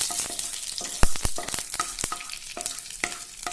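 Mustard seeds and curry leaves crackle and sizzle in hot oil in a pan while a pumpkin stir-fry is cooked, a close, steady frying hiss broken by sharp pops and spatters, with no voices.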